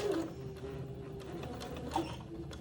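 A sewing machine runs steadily, hemming a long edge of a Christmas dress with a gathered ruffle and lace panel, giving a continuous mechanical hum throughout with a few faint clicks.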